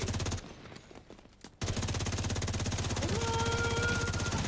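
Sustained rapid automatic gunfire in the shooter game The Division 2, loud and steady with a brief pause before the rattling burst resumes at full intensity and carries on to the end.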